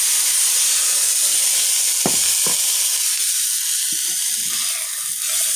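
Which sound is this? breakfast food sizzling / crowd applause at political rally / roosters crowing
breakfast food sizzling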